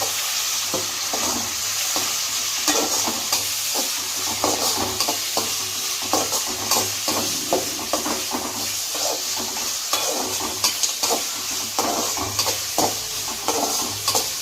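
A pan of tomato for chicken biryani keeps up a steady sizzle while a spoon stirs and scrapes it in a busy repeating rhythm of clinks against the metal.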